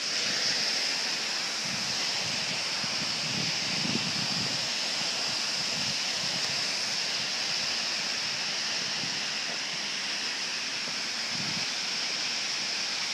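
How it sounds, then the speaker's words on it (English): Artificial waterfall at China Ethnic Culture Park, an 8-meter-wide, 7.5-meter-high emulation of a dragon-like flow, roaring steadily and loudly throughout with a dense, unbroken rush of falling water. "Largest waterfall emulation architecture in China."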